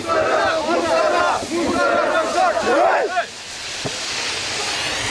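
Activists marching with smoke bombs shout and chant loudly at police in a street protest. The crowd's raised voices carry over a steady hiss, then fade to a duller roar of noise.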